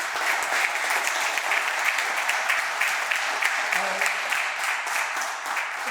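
An audience applauds the boys winter track team at a Westfield town council meeting, steady crisp clapping from a modest crowd in a room, continuous for several seconds with no talking.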